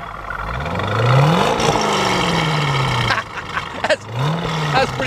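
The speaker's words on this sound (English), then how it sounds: "Sounds good though, the exhaust coming out the tailgate back here." A 1966 Chevrolet Corvette engine with a quad-tip exhaust exiting through the tailgate revs loudly up and down at close range, with two rising and falling sweeps of engine tone over a steady rumble.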